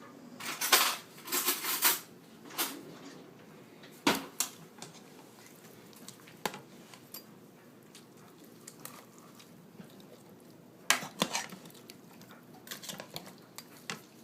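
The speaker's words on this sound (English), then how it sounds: "We're going to stir it around." Chicken fricassee is stirred in a pot, with a series of sharp clinks and scrapes of a utensil against the metal, some in quick bursts and others isolated, over quiet background.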